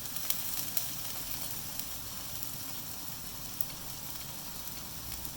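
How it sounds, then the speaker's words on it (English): Tomato, chili and soy sauces hit a hot pan of Indo-Chinese cauliflower Gobi Manchurian, giving a steady, even sizzle and hiss with a few faint clicks, no voices. "we'll add in our 3 sauces, our tomato, chili and soy sauce"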